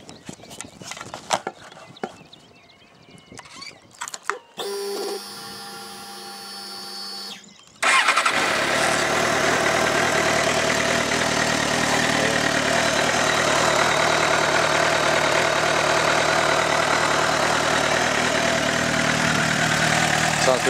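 A Suzuki GSR 600 K6 motorcycle is started after some clicks and a whirring starter, and the engine catches and settles into a loud, steady, close idle that runs uninterrupted for over ten seconds.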